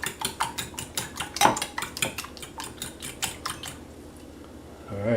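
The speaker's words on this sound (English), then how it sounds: "Give that another quick whisk." Seasoned eggs with Himalayan salt and pepper are whisked briskly in a bowl for a breakfast burrito, the utensil clicking against the sides in a rapid regular rhythm that stops near the end, close up with no talk.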